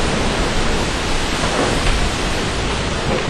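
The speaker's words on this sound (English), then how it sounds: "It's hail, man." Hail pours down during a thunderstorm in the Adirondack wilderness, a dense, steady hiss of pelting ice with a low rumble beneath, loud and continuous throughout.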